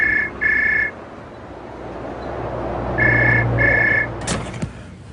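A British telephone rings in a double burst, pauses, then rings twice more, loud and close in a quiet room, followed by a clatter as the receiver is picked up.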